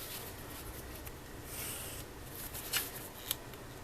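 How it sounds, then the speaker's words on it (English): A leather knife slicing through 2mm thick vegetable tan leather, a faint, steady dry scraping with a few sharper ticks, close up and quiet, with no one talking. "I'll cut it with my knife."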